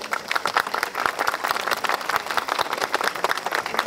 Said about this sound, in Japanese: たくさんの手拍子いただければと思います